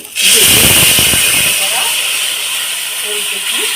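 Potato pieces go into hot oil with a sudden loud hiss that rushes up at once and settles into a steady sizzle. Faint talking can be heard under it.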